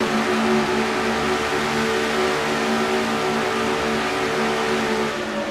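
A stock race car engine in a racing video game revs high and steady around 9,200 RPM through the first two turns at Atlanta, a loud continuous whine sustained alone with no voices.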